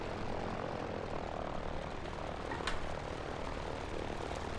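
The engines of a Ford Tri-Motor 5-AT in a flight simulator drone steadily, a constant loud propeller roar with no changes in level and no voices.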